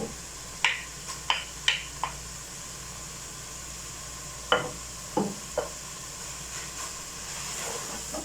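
Minced meat (qeema) frying in a pan with garlic and ginger: a steady low sizzle and hiss, broken by a few sharp clinks and scrapes of stirring, moderately close and fairly quiet, with no voices.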